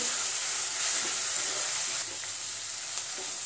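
Spices fry with a splash of water in a tawa for paneer pulao, giving a loud, continuous close hiss and sizzle with faint stirring taps and no talk.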